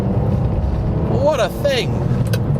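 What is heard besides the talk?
Ferrari 612 Scaglietti engine revving at 4,000 to 5,000 RPM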